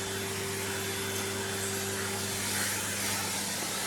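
A household vacuum cleaner runs steadily while cleaning up dog hair indoors, giving a constant, even whir with a low hum that holds at the same level throughout.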